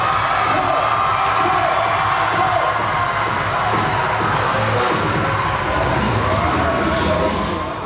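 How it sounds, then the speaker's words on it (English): Crowd in a school gym giving a sustained ovation, loud continuous cheering and applause with whoops and shouts, steady throughout and tapering slightly at the very end. "Coach Wood was greeted with a well-deserved ovation"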